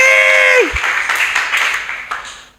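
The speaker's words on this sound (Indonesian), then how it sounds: "Dia berikan tepuk tangan." Congregation clapping at a church service held in a Jakarta apartment, a burst of applause that follows a held musical or vocal tone, then fades steadily over about two seconds.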